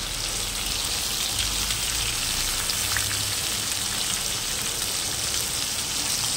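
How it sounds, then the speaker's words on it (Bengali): Heavy rain falling outside, a steady dense hiss that holds unbroken and fairly loud throughout. "আর বাইরে দেখো প্রচণ্ড বৃষ্টি হচ্ছে"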